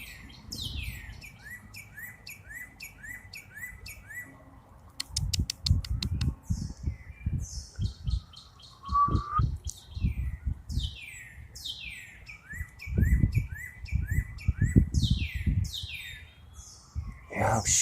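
Repeated melodic bird calls, each phrase ending on a sharp, abrupt note, ring out clearly over a low rumbling background for most of the stretch, coming in bursts with short gaps between them.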